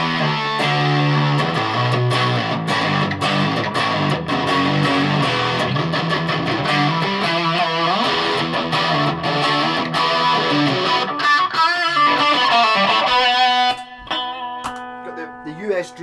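An electric guitar plays through a distortion pedal with volume and distortion set at half, giving sustained, thick chords and riffs that ring on loudly for most of the passage before thinning out near the end.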